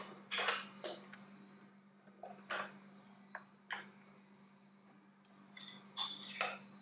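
Several sharp metallic clinks and clacks ring out one after another as a stand mixer is switched to its dough hook while making traditional Greek koulourakia cookies, over a steady low hum in a quiet kitchen.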